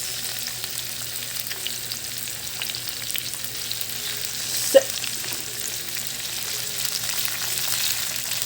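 Bitter gourd sautéed with tomatoes and garlic in a pan gives a steady, soft sizzle while being stirred, with one brief clack of a utensil midway and no talk.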